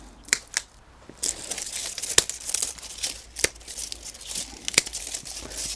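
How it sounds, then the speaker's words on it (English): Dead yucca leaves snipped off indoors with scissors, a run of sharp close dry snips and crackles spaced irregularly, some crisp leaf crinkling between cuts. "So we always just snip these off,"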